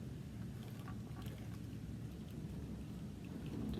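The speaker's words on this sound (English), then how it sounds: "I apologize for the rain that is behind you guys." Steady rain falls outdoors as a continuous, even hiss with a low rumbling undertone, unbroken for the whole stretch and with no voices over it.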